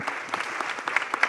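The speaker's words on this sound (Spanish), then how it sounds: "Un gran aplauso para ustedes" An audience applauds at a Spanish-language literary festival panel, a brief burst of scattered, crisp claps at moderate distance, with no talk over it.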